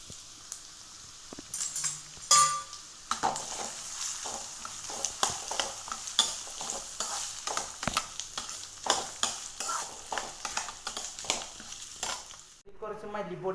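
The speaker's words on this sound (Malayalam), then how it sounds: "കുറച്ച് മല്ലിപ്പൊടി മഞ്ഞൾപ്പൊടി കൂടി ഇട്ട് ഞാൻ ഇളക്കിക്കൊണ്ടിരിക്കും" Potatoes fried dry in a pan with cumin, coriander powder and turmeric are stirred, giving a steady close sizzle broken by frequent scraping and clinking of a spoon against the pan, with no talk.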